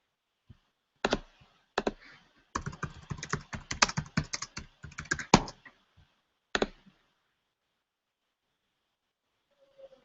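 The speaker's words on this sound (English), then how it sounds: "I've just paused for a minute while I type in the box" Typing on a computer keyboard, close and fairly loud, in scattered bursts of rapid clicks and taps with short pauses between them, and no voices.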